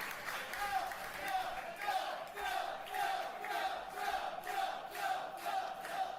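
Wrestling crowd in Hicksville, steady dense murmur and cheering with rhythmic swells like chanting or clapping, filling the whole stretch at moderate distance.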